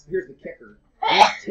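A single abrupt, loud sneeze bursts out at close range, framed by a speaker's talk just before and after.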